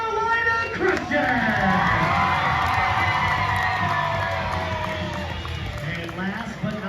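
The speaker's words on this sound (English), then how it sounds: "I want you guys to scream for Cameron Tweedy, Carolina Crusher" A large crowd screams and cheers loudly at a monster truck show during driver introductions, a sustained roar with a voice calling out over the din.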